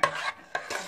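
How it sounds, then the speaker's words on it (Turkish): A spoon stirs a thick chocolate pudding mixture for supangle with walnuts, making close, raspy scraping strokes in two or three sweeps with short pauses, no talking. "Şöyle karıştıralım."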